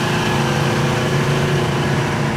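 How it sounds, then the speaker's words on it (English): A 1969 Plymouth Roadrunner with a 383 V8 and dual exhaust runs steadily, a loud continuous engine drone with a deep low rumble that holds even throughout, no voices over it. "Dual exhaust sounds great."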